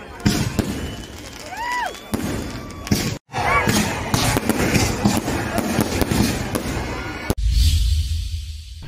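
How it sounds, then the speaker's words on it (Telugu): Diwali fireworks, including sparklers, flower pots, ground spinners and crackers, crackle, whistle with rising tones and pop in a busy, continuous mix, with people talking throughout and a sharp bang near the end. "కాకర పువ్వులు, మతాబాలు, భూచక్రాలు, టపాసులు కాల్చారు"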